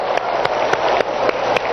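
An audience claps in unison, several sharp, loud, evenly spaced rhythmic claps over a background of scattered clapping from the crowd.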